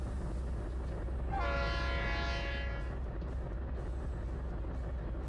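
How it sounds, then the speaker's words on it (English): A GE C39-8 six-axle diesel locomotive in a train simulator game, its engine rumbling low and steady while a loud horn sounds for about two seconds, with no talking. "So now we can see what it's like to switch with a 6-axle locomotive."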